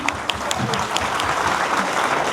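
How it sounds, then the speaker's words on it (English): Short burst of audience clapping at a university event in a hall full of students, steady and fairly close, lasting a couple of seconds. "A big round of applause for her"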